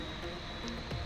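A jet engine spools up in a flight simulator game, giving a steady, loud roaring whine with a thin high tone running through it, continuous throughout.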